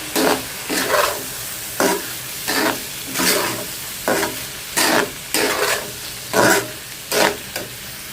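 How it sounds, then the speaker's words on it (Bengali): Rice being stirred into fried spice paste in a pan for hilsa pilaf (ilish polao). A steady sizzle runs underneath, broken by about a dozen rhythmic, scraping stir strokes spaced roughly half a second apart. "মশলাটা কষিয়ে আমি হচ্ছে চালটা দিয়ে দিলাম, পোলার চালটা।"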